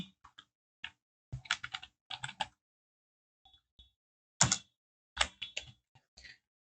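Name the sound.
typing "business card" on a computer keyboard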